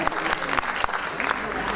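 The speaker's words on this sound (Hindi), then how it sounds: "एक बार तालियों के साथ अभिनंदन अभिवादन" An audience at a literary award ceremony applauds with dense, even clapping, and a voice talks faintly underneath.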